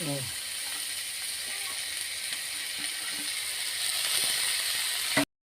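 Green chilies dropped into hot oil produce a continuous close-up sizzling hiss that holds steady, swells slightly near the end and then cuts off abruptly.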